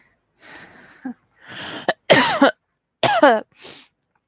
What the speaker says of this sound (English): I do apologise if there's a lot of, coughing and spluttering and snottiness going on